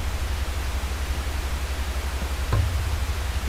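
Loud, steady hiss of TV static fills a horror video game scene, broadband and unbroken, with a brief faint knock partway through.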